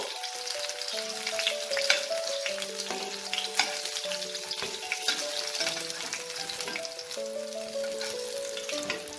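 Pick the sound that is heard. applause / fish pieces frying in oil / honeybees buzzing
fish pieces frying in oil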